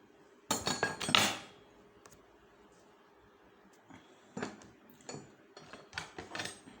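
A screwdriver handled in a workshop gives a burst of sharp metallic clinks and clatters, then a pause and several lighter, scattered clinks, close by with no talking.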